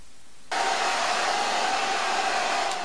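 A hair dryer runs steadily to dry freshly painted chalkboard lettering, switching on abruptly after a brief quiet moment and then holding a loud, constant whooshing blow with no talk.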